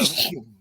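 A single short sneeze, sharp and breathy, bursting out then cutting off into quiet.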